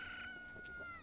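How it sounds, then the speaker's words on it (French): Chickens cluck in the village in Zelda Ocarina of Time, a short, faint burst of game fowl sounds with a sustained tonal layer underneath. "vous entendez bien que... Il y a des cocottes."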